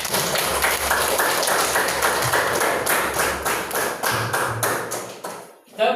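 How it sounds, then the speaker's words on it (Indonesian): A group claps together, a dense patter of hand claps that fills the room steadily for several seconds before tapering off. "tepuk tangan untuk kita semua"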